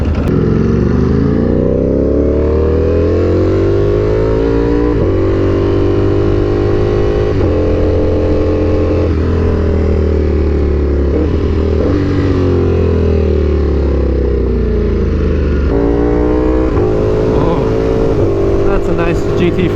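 A Ducati Panigale V4R motorcycle fitted with an SC Project exhaust revs hard on a dyno, a loud, sustained engine roar with rising and falling pitch sweeps across the run and no pauses.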